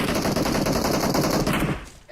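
Rapid automatic gunfire from a PUBG Mobile match, loud and dense bursts filling most of the moment before cutting off abruptly near the end, with a voice briefly heard.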